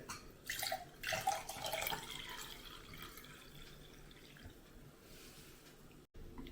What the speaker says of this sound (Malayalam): നമുക്കിതിൻ്റെ ഗ്ലാസ്സിനകത്തേക്കൊന്ന് ഒഴിക്കുക